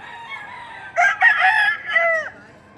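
A white gold fighting cock from Taal, Batangas crows once, close and loud, a rising then falling call lasting over a second above faint background noise.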